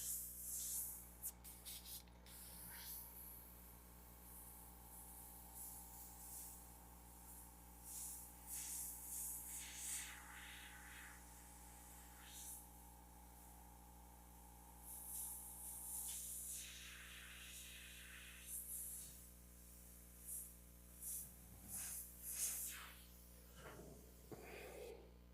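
Airbrush spraying black paint while detailing a Jack Skellington painting, a soft steady hiss in short, sparing bursts with pauses between, close and quiet over a faint constant background hum.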